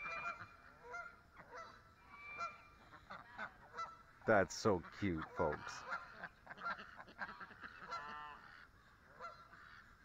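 A mother duck and duckling call with a quick burst of loud honking quacks in the middle, plus softer calls before and after, while a person talks quietly throughout.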